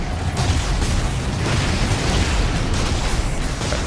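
Plasma cannon fire roars in Warhammer 40,000 Space Marine, a loud, continuous rumbling blast of heavy booming discharges and mechanical noise that fills the whole stretch without pause.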